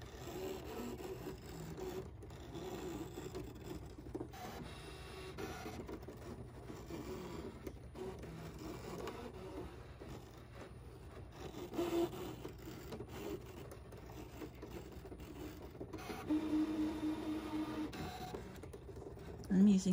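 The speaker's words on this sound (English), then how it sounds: "And it's cutting. Since this is marine vinyl, it's going to cut through twice." A Brother ScanNCut DX 225 machine with a fabric cutter blade on a fabric mat cuts through marine vinyl, giving a quiet, steady mechanical whir with soft rubbing and scraping that runs throughout at low volume.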